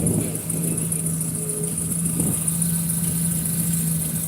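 A boat engine idles steadily with a low, even hum and constant drone throughout, moderately quiet, with no talk, while the boat keeps stalling and a fuel problem is suspected.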